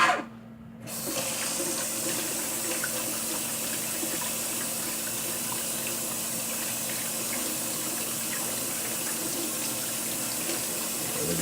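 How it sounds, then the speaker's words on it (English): A water tap runs steadily as hands are washed under the stream, with a constant close hiss and splash that starts after a brief quiet moment and continues unbroken. "let me do it again for the camera. Wash my hands."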